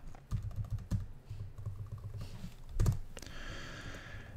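Rapid typing on a computer keyboard, a close, steady patter of keystrokes with a few heavier clacks and a brief pause before a final burst; no one speaks.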